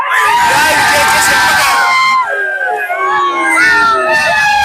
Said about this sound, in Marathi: कार्यकर्त्यांचा जल्लोष आपण पाहू शकताय.